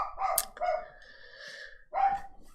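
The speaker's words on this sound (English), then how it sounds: "It's a running leaf. You don't need to bark at it." A dog barks at a windblown leaf, giving three or four quick, high, yappy barks close to the microphone, with short gaps between them.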